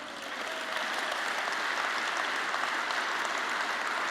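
Sustained applause from a sizable crowd, a dense even patter of clapping that swells in at the start and holds steady throughout.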